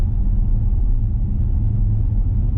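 Steady low rumble of a 2020 Audi Q7 Black Edition on 21-inch wheels driving over a bumpy road, heard from inside, continuous and even with a faint hum of the air-conditioning fan and no voices.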